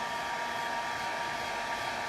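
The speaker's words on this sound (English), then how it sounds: "letting the hairdryer go underneath it" A hair dryer blows steadily and close, drying a crinkly plate art piece from underneath in a home studio, a continuous even whoosh with no talk.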